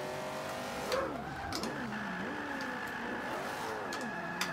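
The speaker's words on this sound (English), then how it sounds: "let's see how this car goes with just a standard tune on it" A BMW E36 drifting on a standard tune in the Forza 5 video game revs up and down repeatedly, its engine note swooping in rising and falling sweeps with faint tire noise, moderately loud and without talk.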